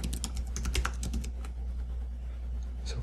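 Rapid keystrokes on a computer keyboard while entering variables in the Insomnia API client, a dense run of close clicks in the first half that thins to a few scattered taps, with no talking.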